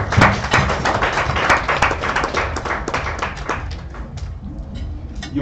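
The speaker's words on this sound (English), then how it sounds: "Let's give a warm round of applause for Professor Ndemo." Audience applause for a professor taking the floor at a mining conference, a dense steady patter of many hands clapping close by that thins slightly toward the end.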